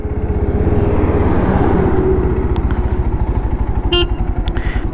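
A motorcycle is ridden through Kargil, its engine loud and close with a fast, even throbbing beat that holds steady throughout, plus a few faint clicks and rattles.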